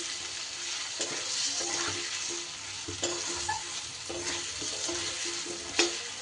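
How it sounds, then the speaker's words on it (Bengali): Turmeric and chili powder fry in a pan over low gas, giving a steady close sizzle with the scrape and clink of a spoon stirring through it at intervals. "আমি কিন্তু গ্যাসটা কমিয়ে নিয়ে মশলাটা দিয়েছি, না হলে মশলাটা পুড়ে যাবে।"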